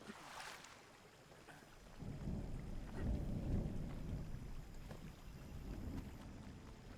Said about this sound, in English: And it's an actual storm.